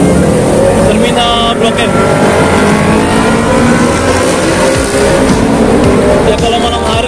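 Bus and other traffic pass along a busy city street near the Blok M terminal, a steady loud engine and road rumble throughout with someone talking over it.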